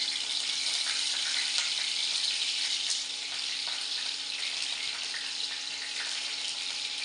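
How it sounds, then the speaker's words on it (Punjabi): Cut lemons frying in hot oil, a steady, bright sizzle close by that holds evenly throughout with no talking. "ਤੇਲ ਆਪਣਾ ਚੰਗੀ ਤਰ੍ਹਾਂ ਗਰਮ ਹੋ ਗਿਆ ਜਿਹੜੇ ਆ ਨਿੰਬੂ ਕੱਟੇ ਨੇ ਹੁਣ ਆਪਾਂ ਨਿੰਬੂਆਂ ਨੂੰ ਵਿੱਚ ਪਾ ਦਿੰਦੇ ਆ"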